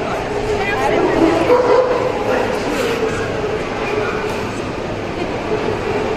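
Dogs bark among crowd noise at the European Dog Show 2021 in Budapest, where many Caucasian Shepherd dogs are gathered; a loud, dense hall ambience with voices talking over it.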